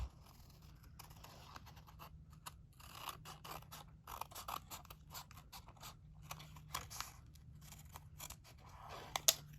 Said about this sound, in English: then just cut this off.